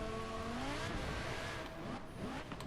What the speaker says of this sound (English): The V10 sound on this game is just amazing.